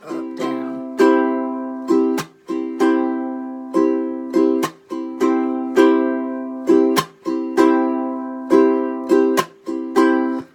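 A ukulele strummed in the Hawaiian chunk pattern, bright ringing chords broken by sharp muted percussive chunks in a steady repeating rhythm, played close and alone.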